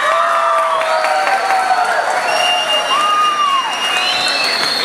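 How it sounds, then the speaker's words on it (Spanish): Audience at the Omega Royale 7th edition event applauds and cheers for Kakashi Hatake's voice actor, a loud, sustained crowd roar with whoops and shouts filling the whole stretch. "Denle un aplauso a Kakashi Katake."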